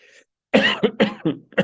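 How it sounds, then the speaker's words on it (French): A person coughs several times in a quick burst, close and loud, after a brief faint sound. "moi là, je tousse"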